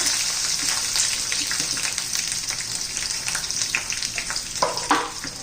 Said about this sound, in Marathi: मोहरी तडतडली की कढीपत्ता घालायचा आहे भरपूर छान असा कढीपत्ता घातलेला आहे आणि कांदा घालून देऊया बारीक करलेला